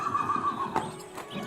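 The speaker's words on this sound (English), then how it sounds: "I have 2 new horses." A horse whinnies in a full-cast radio drama adaptation of Wuthering Heights, its drawn-out neigh standing clear and fairly close, followed by a shorter snort-like burst and faint shuffling.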